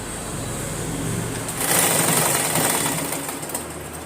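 An electric sewing machine stitches frock pieces together, its needle running in a fast, rattling whir that rises into a louder burst partway through before easing off, heard up close.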